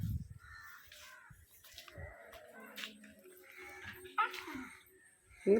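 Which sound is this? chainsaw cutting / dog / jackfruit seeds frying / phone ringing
dog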